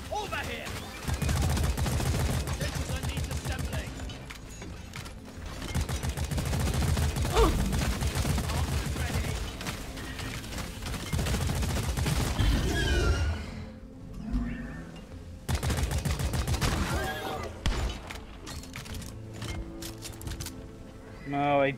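A turret opens fire in the video game Deep Rock Galactic, with long bursts of rapid automatic fire, then a short pause, then more bursts, close and loud.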